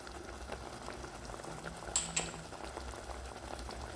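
Ground spice paste for a Betawi vegetable soup sautés in a pan, a steady soft bubbling sizzle with a couple of brief sharp clinks near the middle, close and fairly quiet, with no talking.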